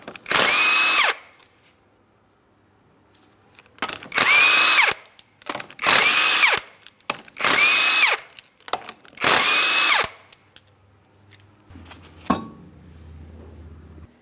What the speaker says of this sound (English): you're going to remove all 5 of your 19mm lug nuts so we can get the wheel off of here